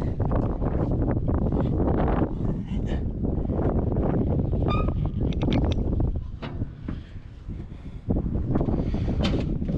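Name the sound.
wind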